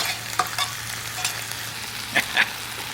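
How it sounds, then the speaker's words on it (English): Beef and vegetables stir-frying for pepper steak at a camp cookout, a steady close sizzle broken by a few scraping stirs of the pan. "It's time to throw the beef back in there and let it finish cooking."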